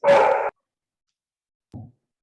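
A dog gives one short, loud bark, then after a pause a softer, lower yip, both near and alone against silence during a Spanish-language online discussion.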